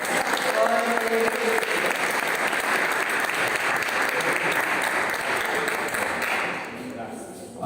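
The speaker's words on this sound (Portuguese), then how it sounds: "as palmas louvam o Senhor Jesus" A church congregation applauds in sustained, dense clapping that holds steady for several seconds, with faint voices mixed in beneath, before thinning out near the end.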